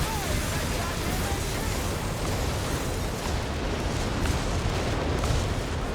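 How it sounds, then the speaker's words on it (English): Whiz Bang rocket barrage in the video game Company of Heroes 3, a dense, continuous roar of overlapping rocket blasts and explosions that stays loud and rumbling throughout with no break. "First couple whiz bang rockets blocked by the train carriage"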